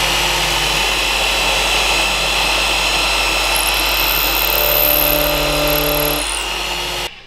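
A power drill bores a countersink into wood on a folding workbench, giving a loud, steady whirring drone for about seven seconds that cuts off abruptly at the end.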